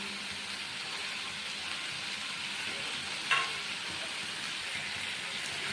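Mutton and fried potatoes sizzle steadily in a pan, a continuous close frying hiss with one brief scrape of stirring partway through.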